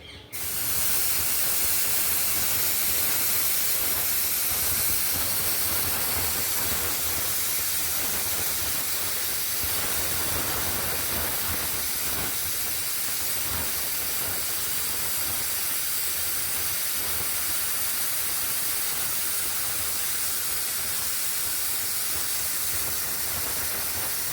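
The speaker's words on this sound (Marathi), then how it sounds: "एक आठ ते नऊ शिट्ट्या करून घ्यायच्या आहे" A pressure cooker loudly and steadily hisses steam throughout while country chicken curry cooks inside, a continuous close rushing spray with no break.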